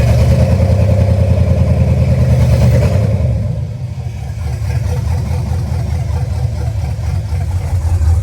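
An LS-swapped G30 van engine runs loud and close on its first start, a steady rough drone that dips briefly in level partway through and then settles back into a continuous idle.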